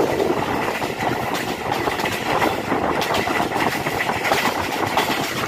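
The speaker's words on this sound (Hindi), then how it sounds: "खूबसूरत मोड़ काटते हुए ट्रेन जो है झेलम की तरफ बढ़ रही है।" A Pakistani railway train rounds a curve past Kanowal station heading toward Jhelum, a steady loud rumble of wheels and clattering rail cars rolling close by with no voices.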